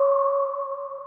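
A synthesizer holds a single clean, steady note for about a second, a smooth sustained electronic tone with no other sounds around it.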